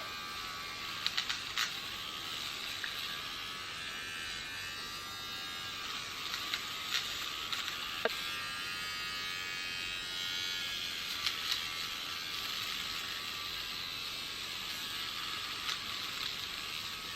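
Heart of Love Finishing Touch eyebrow hair remover running close up, a faint steady electric buzz with scattered tiny ticks and crackles as it works, alone without talk.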